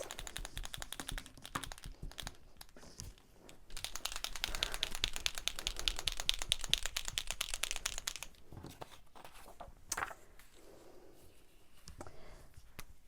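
A Posca paint marker shaken by hand gives a quiet, fast rattling clatter that runs steadily for several seconds and then trails off into a few scattered knocks.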